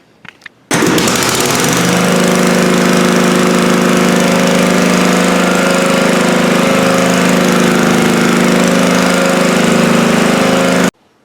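A Scotts 1642 riding mower, just fitted with a new drive belt, starts abruptly and runs at a steady, loud, close engine drone with no talk, then cuts off sharply.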